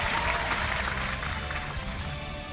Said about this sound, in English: We're gonna give ourselves a cheer.